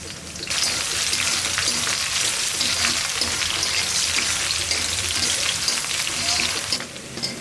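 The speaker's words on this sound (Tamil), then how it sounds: "இப்போ கொஞ்சம் கொஞ்சமாக வெண்டைக்காய் போட்டு பொரித்து எடுத்துக்கலாம்" Cut okra (ladies' finger) deep frying in hot oil: a loud, dense, crackling sizzle that starts abruptly, holds steady like heavy rain, then drops off near the end, with no talking.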